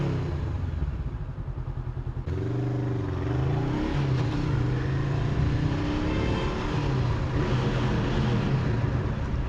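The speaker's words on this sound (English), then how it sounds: "I will rev this thing." A Honda CBR 500R motorcycle engine idles with a throbbing pulse, then gets a short, light blip of revving, its pitch rising and wavering before easing back into a steady hum nearby.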